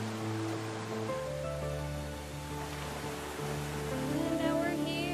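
Rushing water in the video game Spirit of the North, a broad steady wash of flowing water or waterfall spray heard continuously beneath humming game music.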